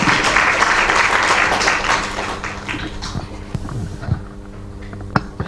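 An audience at a panel event on Thailand's lèse majesté law applauds to welcome journalist Pravit Rojanaphruk, a full burst of clapping that thins out to a few scattered claps and taps.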